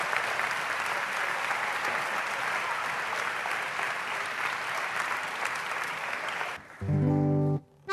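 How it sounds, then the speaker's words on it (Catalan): Sustained, loud applause from a concert audience at a choral song event, a dense, even roar of clapping that continues for several seconds, then cuts off as music begins. "que es mereix aquest aplaudiment ben fort a l'hora de començar"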